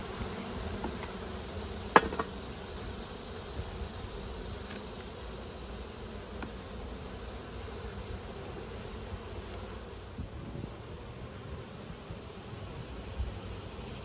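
Honey bees drone steadily around an open hive on a cool day, a constant close buzz with one sharp knock early on and faint handling noises.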